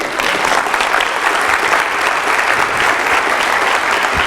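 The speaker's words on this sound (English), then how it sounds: "we can now have a big round of applause" Loud, dense applause from a lecture audience after a student talk on a High Court justice's working day, many hands clapping evenly throughout with no voices over it.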